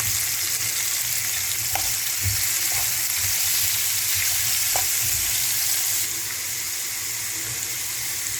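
Onion frying in a pan for a seafood paella, a loud continuous sizzle with bubbling hiss and a few soft clicks of stirring throughout.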